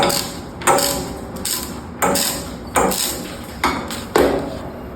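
A guillotine cuts picture frame molding, making about seven sharp chopping strikes spaced roughly half a second apart, each a crisp snap with a short metallic ring.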